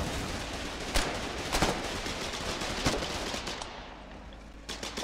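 Video game gunfire rattles in scattered bursts over a constant background din, with a few sharper shots standing out at moderate volume.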